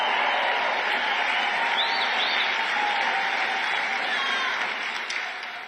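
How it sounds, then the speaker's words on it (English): A rally crowd cheers and applauds as Elon Musk is named to head a government efficiency department, a loud continuous roar of clapping and shouting that holds steady and fades slightly at the end. "Uh-oh, is this cheer a little too loud?"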